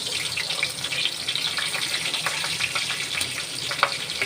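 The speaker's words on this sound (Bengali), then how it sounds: "কড়াই আর তেল দিলাম, শুকনো লঙ্কা, এই কাঁচা লঙ্কা আর জিরে ফোড়ন দেবো।" Dried red chilies, green chilies and cumin seeds tempering in hot oil in a kadai give off a steady, fairly faint crackling hiss that runs evenly throughout with no one speaking.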